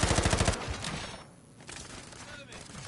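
Rapid automatic gunfire in a shooter video game bursts out loudly in a quick regular rhythm for about half a second, then trails into game noise and scattered effects.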